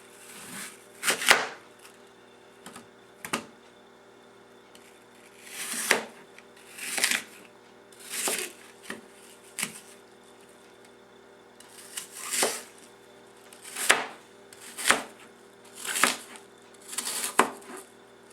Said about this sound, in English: I'm going to cut off the stem, then the bottom tip.